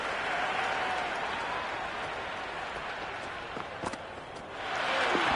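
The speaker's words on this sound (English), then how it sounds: "There's an almost tangible fervour throughout the crowd at the moment." Crowd applause and cheering in the cricket video game Cricket 26, a steady broad roar of clapping throughout that swells louder near the end, with faint commentary underneath.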